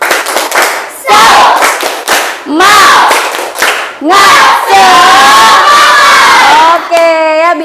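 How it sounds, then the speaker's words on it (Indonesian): A classroom of schoolchildren claps and shouts a rhythmic spirit chant together, loud and close, in sharp bursts of unison claps and voices, ending with a rising sung shout. "Kita tepuk semangat dulu, mau? Oke, yuk tepuk semangat."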